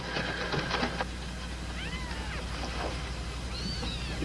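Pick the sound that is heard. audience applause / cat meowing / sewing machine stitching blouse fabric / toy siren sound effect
cat meowing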